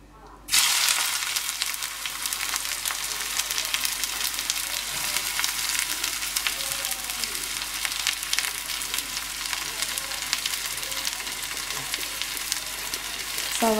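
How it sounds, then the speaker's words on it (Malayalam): Sliced onions dropped into well-heated oil burst into a loud sudden sizzle that holds steady and bright for over ten seconds, close and uninterrupted, with no voices. "അപ്പോൾ അതിലേക്ക് നല്ലോണം ചൂടായതിൻ്റെ എണ്ണ അതിലേക്ക് ഞാൻ സവാള ഇട്ട് കൊടുക്കുകയാണ്."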